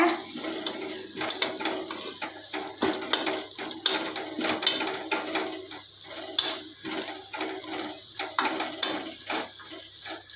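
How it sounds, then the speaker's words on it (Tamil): Country chicken with yogurt being stirred in a pot, close clinks and scrapes of a ladle against metal in an irregular rhythm over a faint simmer, no voices. "இதுவும் நல்லா இப்போ கிளறி கொடுத்துக்கலாங்க"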